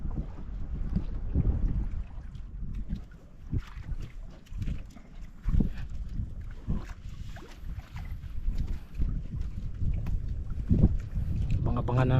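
Strong northeast wind buffeting the microphone while fishing from a boat on open water, heavy gusty rumbling throughout with someone talking over it.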